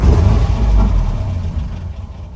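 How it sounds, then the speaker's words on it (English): A 1963 Land Rover Series 2A 88-inch with the 2.25 petrol engine, started hot, rumbles loud and close before settling into a steady, low idle that eases off slightly. "Starts nicely and settles down to a nice idle"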